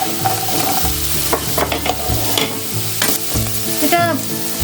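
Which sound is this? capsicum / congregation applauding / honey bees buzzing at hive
capsicum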